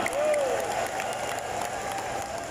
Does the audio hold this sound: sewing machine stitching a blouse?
no